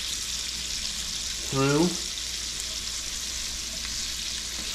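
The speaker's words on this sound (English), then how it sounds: "all I'm just gonna do is just kind of like flip them over every once in a while to see how they're cooking" Frog legs frying in a pan over just under medium heat, a steady sizzle running throughout while someone talks briefly over it.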